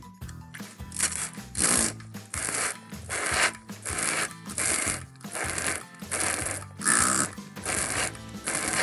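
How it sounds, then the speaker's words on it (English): A handheld sprayer spraying water onto a chalk landform model sends out repeated bursts of broadband hiss, about a dozen spurts in a steady rhythm, close and fairly loud with no talking. "That's the sound of the sprayer."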